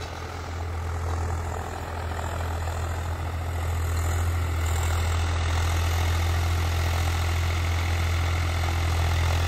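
A Swaraj 744 XT tractor engine runs steadily in the open, a loud, constant low diesel drone with no break.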